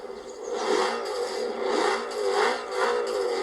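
A V10 car engine in Forza Horizon 4 revs loudly and repeatedly, rising and falling in several surges with a whirring, scraping edge as the car drifts, no talk over it.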